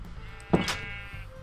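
A single short sheep bleat from the video game Minecraft sounds once, moderately close, over a faint steady background hum with no talking.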